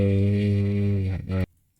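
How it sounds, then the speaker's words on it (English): Loud, steady low electric buzz from a slightly broken fan blowing straight into the microphone, holding for over a second before cutting off abruptly into near silence. "There's a weird buzz sound. That's the fan."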